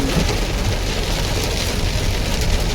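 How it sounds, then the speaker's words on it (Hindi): Very heavy monsoon rain pours down in a hill town in Baijnath, a loud, unbroken roar of water hitting surfaces close by with no voices over it. "बड़ी भयंकर बारिश हो रही है"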